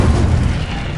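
Incendio fire spell going off in Hogwarts Legacy, a loud dense burst of roaring whoosh and boom filling the whole moment without a pause.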